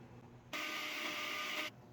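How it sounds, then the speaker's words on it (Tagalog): Blender whirring eggs and vanilla for a kangkong cake batter, one sharp, steady high-pitched burst just over a second long, close up and alone. "Takpan lang natin guys at i-blend natin ulit."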